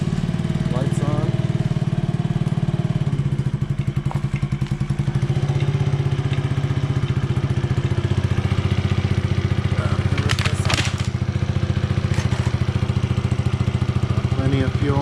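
An Icebear Maddog Gen4 scooter, a Ruckus-style clone, idles steadily right after its first startup, a loud continuous engine putter with rattling clatter and occasional brief knocks over the top.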